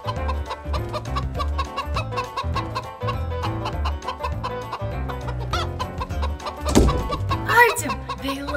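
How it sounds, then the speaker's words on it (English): A chicken clucks repeatedly at close range over a busy, rhythmic backing with steady beats, with a brief louder squawk near the end; no one speaks over it. "It's a chicken."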